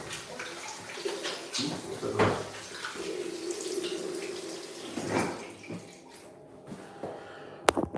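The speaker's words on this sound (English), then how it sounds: "So I'm gonna wash my laundries." Water runs and splashes from a tap while laundry is washed by hand, in uneven surges and trickles with faint knocks, fairly quiet throughout.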